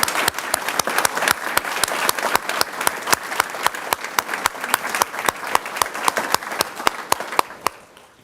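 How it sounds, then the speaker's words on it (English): An audience at a school board of education meeting applauds steadily, with strong, regular claps from a few nearby pairs of hands over a dense crowd, tapering off at the end. "How about a big round of applause for Jennifer Smolnik?"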